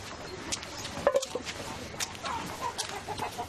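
A fighting rooster clucks in short, scattered bursts at moderate distance over a noisy outdoor background, with faint voices nearby.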